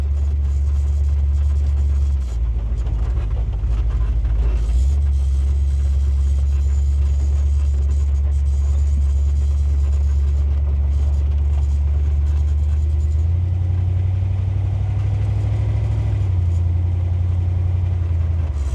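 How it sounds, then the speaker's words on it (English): A 1941 Chevrolet AK Series pickup truck's deep, rumbling exhaust idles steadily nearby, its low throb swelling slightly at moments with no talking. "it's got a deep tone to it, doesn't it? Yeah, it's got a good sounding exhaust"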